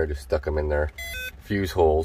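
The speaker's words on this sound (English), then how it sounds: "what you just heard there is my power probe" A power probe circuit tester on a Grady White 236 boat's fuse panel gives a short, bright electronic beep between stretches of someone talking nearby.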